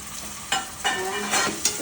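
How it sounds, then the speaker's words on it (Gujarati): Chopped tomatoes go into a pan of frying onions and are stirred, with a continuous hot sizzle punctuated by a few quick scraping bursts of the spoon, close and clear, without speech. "ટામેટા નાખી દેવાના પછી હલાવી દેવાનું"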